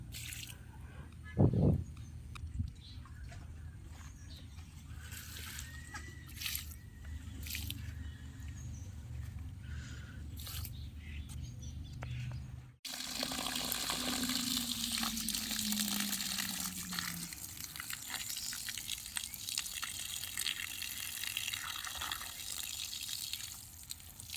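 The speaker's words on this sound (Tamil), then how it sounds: "இப்போ நான் ஊற்றிட்டுருக்கிறது கருப்பு உளுந்து தண்ணி" Water left from washing black urad dal is poured out onto plants, a constant splashing gush that takes over midway after earlier quieter drips and trickles.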